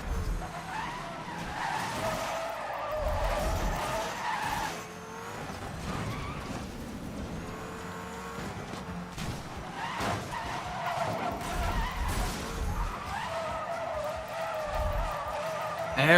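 Tires skid and squeal continuously as a front-wheel-drive car drifts in Need for Speed Most Wanted (2012), engine revving underneath, with someone talking quietly over the long slides.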